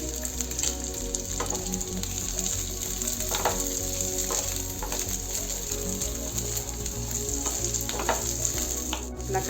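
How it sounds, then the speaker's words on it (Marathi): Coarsely cut onion sautés in a little oil in a pan, a steady close sizzle and crackle with occasional stirring scrapes over a low mechanical hum throughout. "आता आपण ह्याच पॅन मध्ये थोडंसं तेल घालून कांदा आणि टोमॅटो परतून घेऊ"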